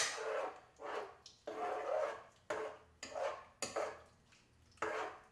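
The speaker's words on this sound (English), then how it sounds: "Just give me one moment as I keep stirring, stir the pot" A spoon stirring Kraft macaroni and cheese in a pot: repeated scraping, sloshing strokes of about half a second each, rhythmic and fairly soft, with no talking.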